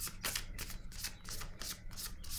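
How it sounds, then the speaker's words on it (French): Cards from an oracle deck handled and drawn, a quiet run of evenly spaced papery swishes and slides, close and low in level, with no voices. "Attendez, je vais piger une autre carte."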